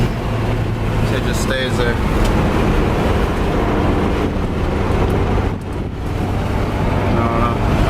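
A 1995 DSM all-wheel-drive car with a locked-up transfer case, its automatic stuck in one gear, revs steadily as the driver gives it gas, a constant low engine drone mixed with road and wind noise under a brief spoken remark.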